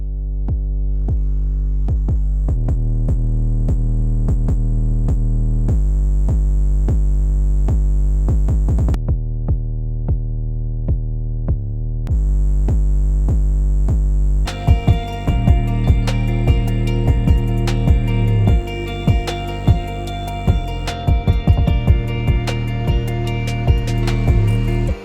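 808 bass line heavily saturated by a studio compressor set to post mode with makeup gain pushed hard, booming sustained notes under a steady beat with crisp percussion joining midway, loud and dense throughout.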